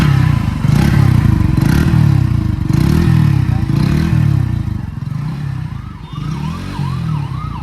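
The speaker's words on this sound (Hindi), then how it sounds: "थ्रॉटल भैया देखो भाई, अभी प्योर बेस आ रहे हैं।" Motorcycle exhaust after a leak repair, loud deep bassy revving that rises and falls in repeated throttle blips, then settles to a lower rumble near the end, with a faint siren-like whine audible.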